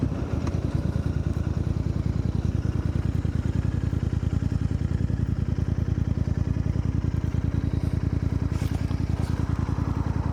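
A 2023 Royal Enfield Interceptor 650 in Barcelona blue with an aftermarket exhaust pulls up, its parallel-twin engine thumping in an even, rapid rhythm at idle, close and steady throughout.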